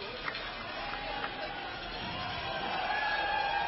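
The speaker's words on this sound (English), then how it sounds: "You can hear the hooting and the hollering." Hockey fans hoot and holler in an arena after a Vernon Vipers versus Coquitlam Express junior game, a steady crowd roar heard at a distance with a few whistles rising over it.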